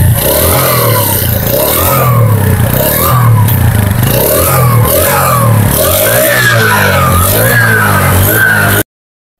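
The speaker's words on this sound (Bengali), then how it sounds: "এখন যদি আমরা গাড়িটার সাউন্ড কোয়ালিটি দেখানোর চেষ্টা করি, গাড়ির সাউন্ড কিন্তু বলে দেবে গাড়িটা কেমন হবে।" A Honda CD 80 motorcycle engine revs up and down repeatedly, loud and close, with rising and falling pitch sweeps and no talking, cutting off abruptly at the end.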